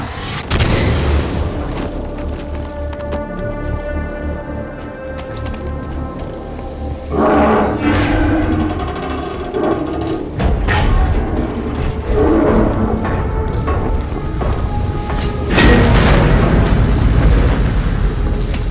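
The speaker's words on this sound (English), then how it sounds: "Grenade incoming!" Grenade explosion in the video game Halo 5: Guardians, heard as several loud, deep booming blasts over dense game music and creature roars.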